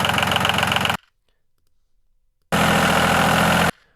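A tractor's diesel engine idles in two short bursts separated by silence, a steady close rumble with a rapid low chugging pulse, each burst cutting off abruptly.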